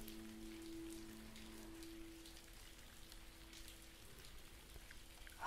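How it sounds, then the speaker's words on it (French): Rain falls steadily in a soft, even hiss of drops on surfaces, faint and unbroken throughout, with no voices present. "Écoute comme le son de la pluie qui tombe est agréable et tellement apaisant."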